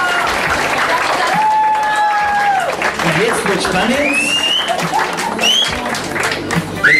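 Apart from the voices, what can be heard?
wedding guests applauding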